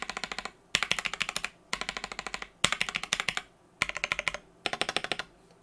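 Keys on a mechanical keyboard with taped stabilizers clatter in five quick bursts of rapid, sharp clicks, each burst separated by a short pause, close and clear with no talk.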